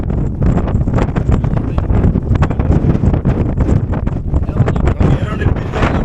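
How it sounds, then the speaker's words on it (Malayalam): Strong wind buffets the microphone continuously at the Rajathottam viewpoint near Meeshappulimala, a loud rough rumble with gusty bursts throughout. "ഇവിടെ ആണെങ്കിൽ ഭയങ്കര കാറ്റ്, നിൽക്കാൻ പറ്റൂല"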